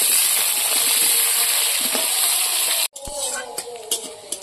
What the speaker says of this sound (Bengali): এই আলুটা আমি তেলের মধ্যে দিয়ে দেব।